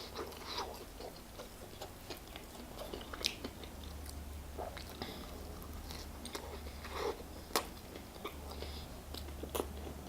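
Close chewing and biting of a chicken burger with hot sauce, soft wet crunches and mouth sounds repeating steadily over a low room hum, with a few sharper bites standing out.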